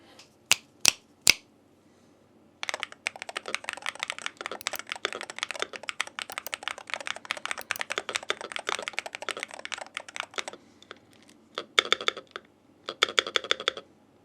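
Rapid, clicky typing on an AK680 MAX mechanical keyboard goes on for several seconds, preceded by a few sharp isolated key clacks and followed by short bursts of keystrokes.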